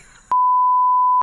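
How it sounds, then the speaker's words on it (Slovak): A single censor beep, one steady pure tone lasting about a second, loud and clean, with a brief trace of studio background before it. "bude počuť píp a píp. Bohužiaľ to bod nie je, ale aspoň ste si vypočuli dobré pípanie"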